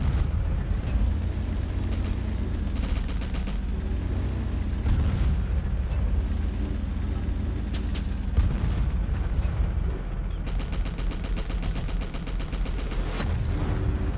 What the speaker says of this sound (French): Le bon point de ce char, c'est que j'ai l'impression qu'il enchaîne vite les tirs.